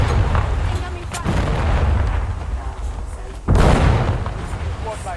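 Incoming artillery fire in a video game war battle, heavy booming blasts rumbling continuously with two sharp impacts, the second one loud and close, while voices talk over the barrage.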